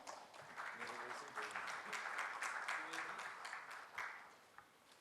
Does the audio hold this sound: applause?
yes